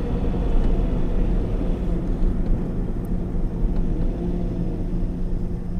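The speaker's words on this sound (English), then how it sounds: "You can hear the turbo spooling up." A 1992 Mazda Autozam AZ-1 kei car with a turbocharged engine, heard from inside the cabin with the air conditioning running, gives a dense, steady engine drone and rumble as the turbo spools up, close and loud with no talking.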